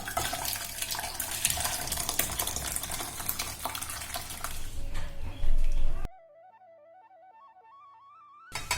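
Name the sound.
pouring tomato moong dal into a bowl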